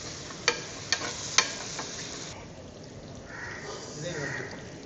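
Onions frying in a pan for a bone curry, a soft continuous sizzle with three sharp spoon taps early on, close but modest in level, under a voice talking.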